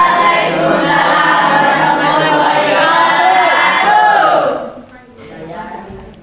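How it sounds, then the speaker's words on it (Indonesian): A classroom group bursts into loud cheering and shouting with clapping, a dense crowd roar that holds for about four seconds before dropping off abruptly to quieter murmurs. "Tepuk tangan."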